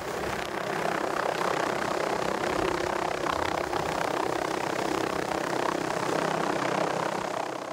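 A helicopter carrying a red stag slung beneath it in New Zealand backcountry, its rotor and engine making a steady, loud whir that stays even throughout with no voices.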